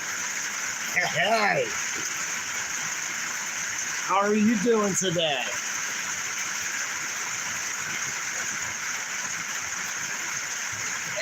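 Heavy rain pouring down, heard from a porch in Pennsylvania as a steady, even hiss, with someone talking briefly over it.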